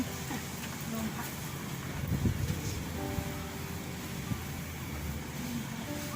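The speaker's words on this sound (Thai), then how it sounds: "มันลม" Wind blows steadily outdoors behind a house during evening watering of plants, a broad constant rush with gusty swells throughout, with a voice speaking briefly.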